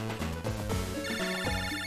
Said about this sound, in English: The phone. I'd better answer it.